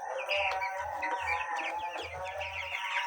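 Farm chickens cluck and chatter steadily at night in a poultry shed, a dense close chorus of overlapping clucks and peeps with a low intermittent hum beneath.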